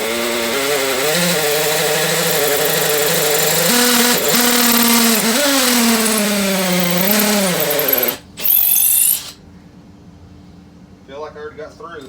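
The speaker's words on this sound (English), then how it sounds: "Hammer setting right on the outside of the chalk line" A hammer drill with a 5/16 bit bores along a chalk line while a sump pump basin is installed, a loud continuous grinding whine with a rising and wavering pitch. It cuts out abruptly near the end, leaving quiet background.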